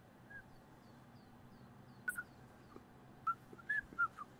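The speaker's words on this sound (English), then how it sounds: "Is that you whistling this time?" Short whistled notes in a quiet room during a co-op game session, a few brief chirpy tones scattered across the second half, soft and close with no talking over them.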